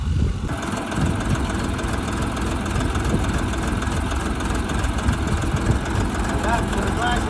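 A Jinma 3244 mini tractor engine idles steadily and loudly throughout, a low continuous rumble with faint mechanical clatter and no pauses.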